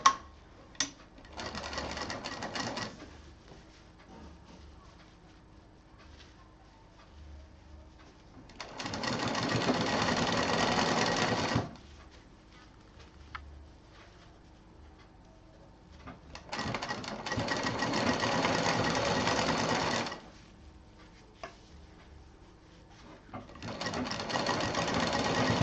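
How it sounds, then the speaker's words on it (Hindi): A sewing machine stitches a zip onto a handbag in several bursts of rapid mechanical whirring, each a few seconds long, separated by quiet pauses; close and moderately loud. "जिप का जो कपड़ा है उस पर मशीन हमें चलानी है।"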